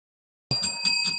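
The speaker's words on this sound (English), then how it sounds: "I'm ringing the bell." After a moment of silence, a bright bell rings out with shimmering, sustained tones that pulse a few times, close and clear.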